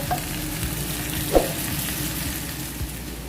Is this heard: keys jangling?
no